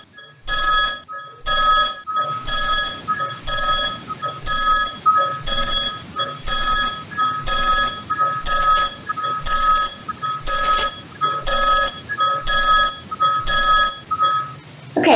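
A telephone rings in regular repeated bursts, about a dozen rings spaced evenly with short silent gaps between them, loud and close with no talking.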